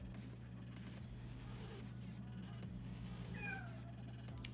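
A cat gives a short meow, heard indoors over a steady low hum.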